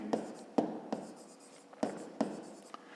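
Chalk tapping and scraping across a board while math is written out, several sharp strokes in an uneven rhythm, close and fairly quiet, with no talking.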